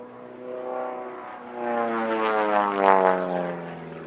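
A Pitts S1S aerobatic biplane flown solo by Lauren Wilson at the Midlands Air Festival 2025, its piston engine droning and swelling as it passes, with propeller tone shifting in pitch, loud and clear with no talking.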